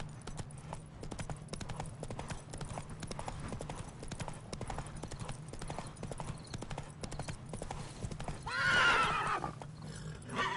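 Roach, Geralt's horse in the game The Witcher 3, gallops with rapid rhythmic hoofbeats throughout, then lets out a loud whinny near the end.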